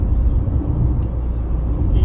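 Steady traffic rumble from many cars passing on a busy local road and highway in Gravatá on São João holiday, a continuous low roar with a brief brake hiss near the end, no clear speech.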